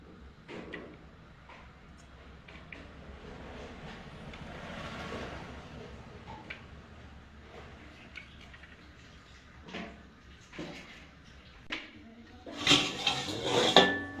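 A metal lid comes off a covered pan of heated sand used for baking a chocolate cake: quiet scrapes and light clinks build to a sharp burst of loud metallic clattering near the end.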